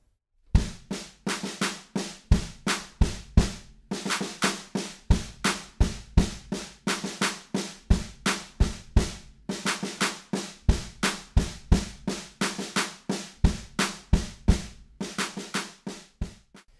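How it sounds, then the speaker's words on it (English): A steady, fast snare pattern from a song on an electronic drum kit, crisp repeated right-hand hits with a kick underneath, played loud and close with short pauses between phrases. "all of that snare drum is on the right hand"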